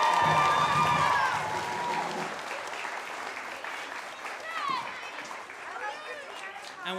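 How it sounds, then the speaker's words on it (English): A crowd at a year-end school concert applauds for Mr. Johnstone with loud dense clapping and some cheering and whistles, while voices chatter underneath. "can we give a big round of applause to Mr. Johnstone for all the hard work he puts in"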